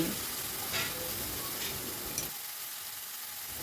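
Vegetables and chopped tomato fry on high flame in a pan as they are mixed, a steady close sizzle with light stirring scrapes that quiets partway through.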